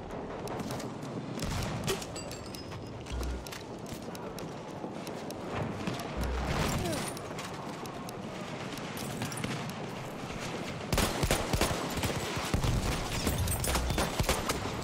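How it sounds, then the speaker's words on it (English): Explosions and gunfire rattle through a Battlefield 1 match, dense bursts and clattering shots at moderate distance, with a louder flurry near the end. "I'm on fire, everything's exploding."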